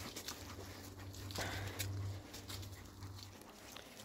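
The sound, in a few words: dog (guide dog) moving and whimpering outdoors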